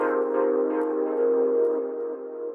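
A sampled synth pad chord held as a soft, sustained mid-range tone with gentle swells, moderately quiet and alone.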